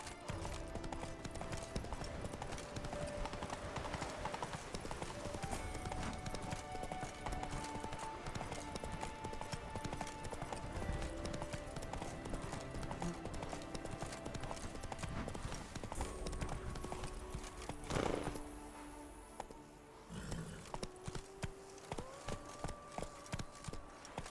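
Horse Roach's hooves clip-clop steadily throughout in The Witcher 3: Wild Hunt Blood and Wine, a continuous rhythmic gait set among dense game music and ambience, with a brief whinny-like rise near the end.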